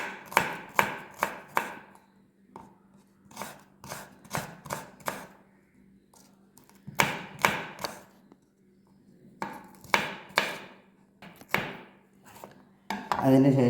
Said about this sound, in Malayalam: 10 ചുവന്നുള്ളി അരിയ